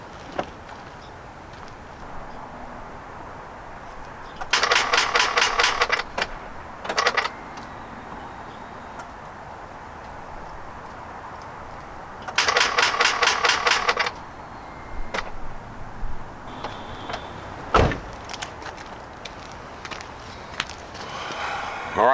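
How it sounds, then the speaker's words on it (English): The starter on a 2000-2006 GMT-800 Chevy Suburban Z71 that won't crank chatters in two bursts of rapid clicking, each lasting about a second or two, with a few fainter clicks and clunks between them over a steady background hum. "Starter's still clicking, so could we have a bad starter?"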